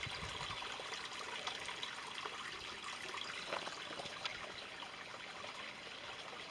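A woodland stream runs past mossy, lichen-covered trees in a combe, a steady soft rush of flowing water with no voices.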